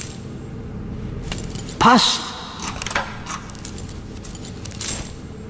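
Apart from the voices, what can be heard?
bunch of keys jangling in The Raven video game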